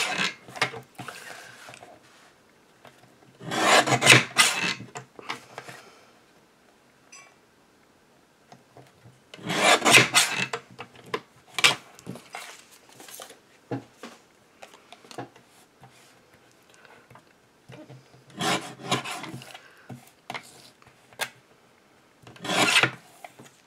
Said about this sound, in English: So what I'm going to do first is cut off the front of the card.